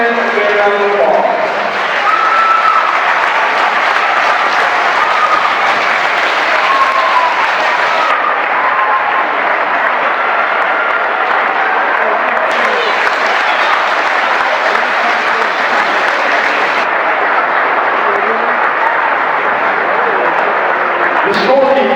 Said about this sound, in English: Please give these men a big round of applause.